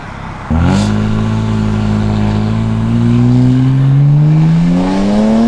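BMW 335i pulling hard at partial throttle, a loud, close engine note rising steadily in pitch over several seconds of acceleration with a brief shift dip near the start.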